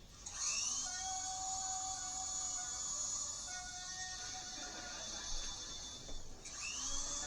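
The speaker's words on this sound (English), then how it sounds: "The chair's spinning around with a drill." Electric drill whining steadily as it spins an aluminum lawn chair, a continuous high motor drone with faint rattling and a brief dip near the end, fairly quiet and uninterrupted by talk.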